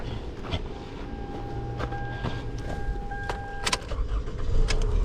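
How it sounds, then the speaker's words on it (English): A 2011 Toyota Camry being started up, with clicks and a whirring crank leading into the engine catching and running louder near the end, recorded close by. "Okay, so now I'm gonna start the car."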